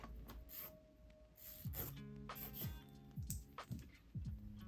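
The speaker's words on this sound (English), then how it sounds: "have to be really gentle when buffing off these little tips" Almond-shaped press-on nail tips being gently buffed, a soft rubbing rasp in short strokes that runs throughout over background music.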